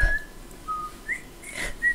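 A few short, thin whistled notes, rising and steady pitches spaced irregularly over a quiet background.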